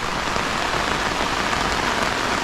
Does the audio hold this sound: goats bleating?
no